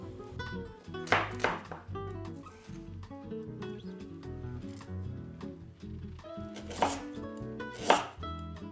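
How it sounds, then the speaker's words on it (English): A knife chops lemongrass on a board in quick, irregular strikes, close and crisp, with a few heavier bursts of rapid chopping. "Next step, I'm going to chop all the vegetable ingredients. First one is this lemongrass."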